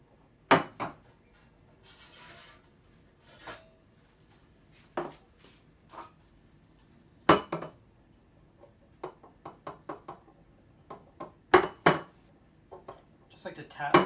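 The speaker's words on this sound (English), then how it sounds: "Just like to tap the bottom of the pitcher to make sure that we pop any large bubbles." Scattered sharp metallic knocks and clinks, several quick taps of a metal milk pitcher's bottom against a hard surface to pop bubbles, with brief gaps and occasional faint talking.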